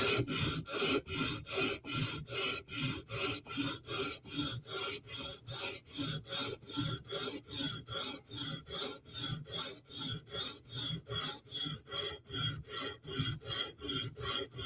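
Steady back-and-forth scrubbing of a Chris Reeve Inkosi tanto knife's heel across a sharpening stone, a close, rhythmic rasp repeating about three strokes per second with no talk.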